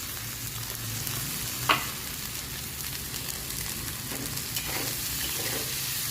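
Soaked kurdai wheat noodles frying in a chili-turmeric tempering hiss with a steady, dense sizzle, near and constant, with a single soft clink of a utensil partway through and no speech.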